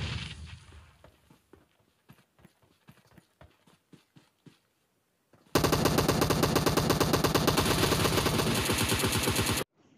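Automatic gunfire in PUBG erupts as one loud, sustained rapid burst of about four seconds, after a stretch of sparse, quiet footstep-like thumps and clicks.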